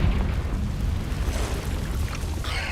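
Confringo blasting spell explosion from the video game Hogwarts Legacy, a loud, rumbling low-end boom that roars on for several seconds without voices.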